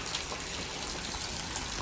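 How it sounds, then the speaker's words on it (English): Heavy rain pouring during a thunderstorm in a Frisco, Texas yard, a steady dense broadband hiss with no breaks, loud and close throughout. "Rain's picking up again."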